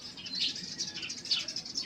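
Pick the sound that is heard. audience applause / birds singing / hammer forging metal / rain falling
birds singing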